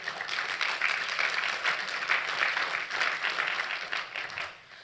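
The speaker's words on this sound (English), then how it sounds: "I hope y'all are clapping for Jesus" A church audience at a recovery testimony night claps steadily for several seconds in dense, sustained applause, then fades out at the end.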